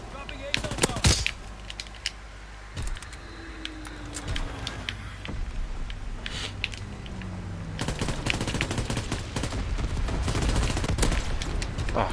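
Gunfire in the World War II shooter Call of Duty WW2, with sharp cracks around the first second, then scattered shots that build into denser, sustained automatic fire toward the end, set against low battlefield rumble.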